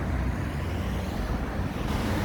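Steady roar of car traffic on a city street in London, with a continuous close rumble of passing vehicles and some wind buffeting the microphone, no voices.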